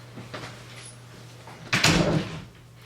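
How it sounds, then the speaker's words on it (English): A door is pushed shut indoors in a family home, one brief close thud with a rattle near the middle, heard nearby over a low steady hum. "Close the door."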